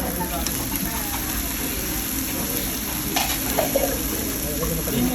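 Fish and shrimp sizzle and crackle on an outdoor grill in a steady, dense hiss that runs throughout, close and loud, while people chat nearby.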